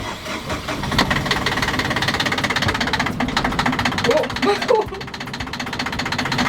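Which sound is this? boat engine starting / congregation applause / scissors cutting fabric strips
boat engine starting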